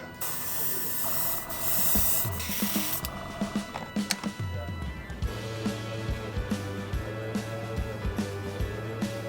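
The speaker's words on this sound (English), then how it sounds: "now finally a matte varnish to protect all that hard work" A can of matte varnish sprays over a painted tabletop miniature in a few brief hissing bursts, followed by short clicking and rattling over a low hum, with no voices.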